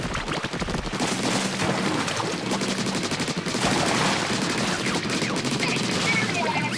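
A weapon fires rapidly during Salmon Run in the Splatoon 2 video game, a dense, continuous rattle of shots under a player's casual talk.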